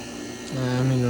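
Vacuum pump running in a chemistry lab during a methylaniline formylation, a steady electric hum that drops in pitch and settles into a louder, deeper drone about halfway through as the vacuum pulls down.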